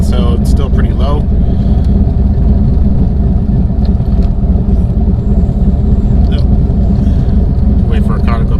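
A turbocharged car with a heat-wrapped setup and a low boost-controller setting drives under load, its engine droning loud and steady while a voice talks over it.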